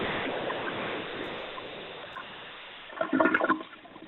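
A toilet flush sound effect rushes in as a steady, moderately loud wash of water, then surges in a brief gurgling burst near the end before fading.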